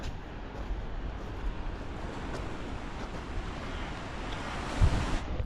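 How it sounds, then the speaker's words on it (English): Ocean waves roll and break below the cliffs at Loch Ard Gorge, a continuous distant surf roar mixed with gusting wind buffeting the microphone, with one stronger surge near the end. "Just listen to the sound of the waves coming from down there."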